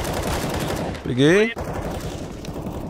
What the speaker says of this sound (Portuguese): os tiros pegavam tão gostoso nesse jogo